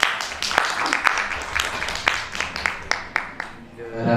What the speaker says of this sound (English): Big applause, everyone.